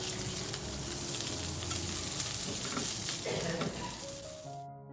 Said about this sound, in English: sauté the prawns together with the dried chilli